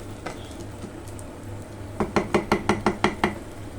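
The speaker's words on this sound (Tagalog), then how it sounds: "Ayan yung glutinous rice natin guys. Ayan, halu-haluin lang din natin." A spoon clacks rhythmically against a pot while stirring glutinous rice for chicken arroz caldo, about eight quick, evenly spaced knocks after a quieter stretch of faint kitchen noise.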